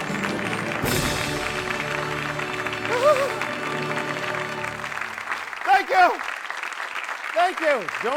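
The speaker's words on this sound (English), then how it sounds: "Give Sophie a round of applause" Live stage show audience applauding a performer, a broad wash of clapping that swells in after a loud burst and carries on under background music and a voice, fading toward the end.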